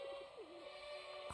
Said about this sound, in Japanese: ハトだ。